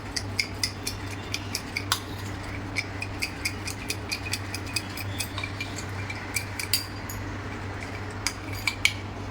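A spoon stirs a thick cornflour slurry in a bowl, giving quick, irregular metallic clinks against the sides over a low steady hum.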